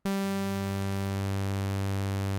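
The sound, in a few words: saw-like wave from Cosine phase distortion oscillator in Drambo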